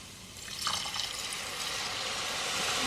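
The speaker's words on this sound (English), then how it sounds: "Then we are going to add the stock." Stock is poured into a pan, making a close, steady liquid splash and trickle that builds after a brief start and carries on to the end, with no speech.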